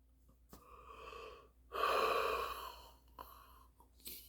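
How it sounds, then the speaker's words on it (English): A person yawns with a long, breathy drawn-out exhale rising in the middle, with softer breaths before and after, close and quiet with no words. "I hope that's my last yawning session"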